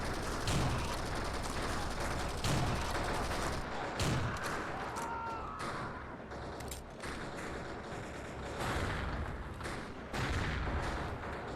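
Battle noise from the Xbox shooter Commandos: Strike Force: dull thumping blasts, including a grenade explosion, sound under constant gunfire and rumble, loud and dense throughout.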